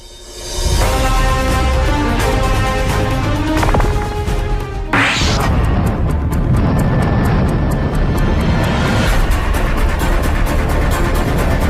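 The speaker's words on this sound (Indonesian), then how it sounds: "pendaratan pesawat bomber tanker yang nyaris saja celaka saat sedang melakukan pendaratan" A bomber tanker aircraft lands with a loud, roaring jet engine droning continuously, punctuated by a heavy crash-like burst partway through, then the roar carries on with rattling noise.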